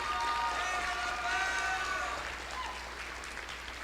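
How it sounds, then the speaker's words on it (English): A round of applause at a board of education meeting, room clapping under faint overlapping voices and a steady low hum, gradually thinning toward the end. "Let's give a round of applause,"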